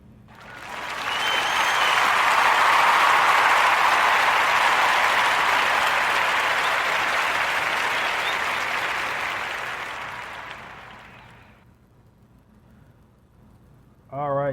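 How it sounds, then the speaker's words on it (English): A podcast audience bursts into applause, swelling quickly into sustained clapping that tapers off over about ten seconds before fading out. "a warm narrative podcast round of applause for their establishment"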